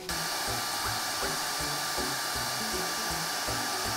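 A hair dryer blows steadily and loudly throughout, a continuous broadband whoosh with a faint motor whine, running close by without pause while someone works on a sparkly glitter toy.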